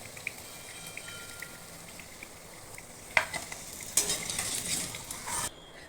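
Pear-shaped samosas fry in oil and are turned one by one, giving a steady faint sizzle with a few light clinks and a brighter burst of frying near the end, with no talk.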